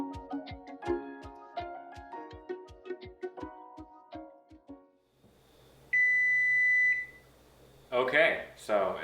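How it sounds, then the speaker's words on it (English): An oven timer beeping while maple apples bake, heard as a single long electronic tone after several seconds of music, followed by a short burst of louder clatter. "Okay, so it sounds like the timer's done."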